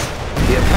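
Recoilless rifle fire in a World War II strategy video game, a dense burst of loud gunfire and booms that swells partway through the short moment, with a voice faintly underneath.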